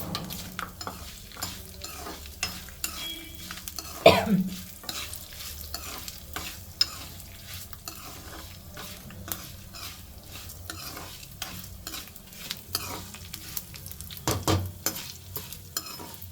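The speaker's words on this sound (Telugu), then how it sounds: "సో ఇదండి ఇది ఈ ఆయిల్లోని ఇవి మిక్స్ చేసేస్తున్నాను" Chennangi leaf spice mix frying in oil as it is stirred, with steady sizzling, repeated scraping and clinking of a spoon against the pan, and a couple of louder knocks, no speech.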